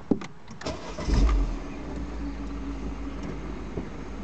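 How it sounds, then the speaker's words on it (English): A Mini Cooper convertible's engine cranks and catches with a short loud rise, then settles into a steady low idle rumble, heard close with no talking. "We'll just start the car."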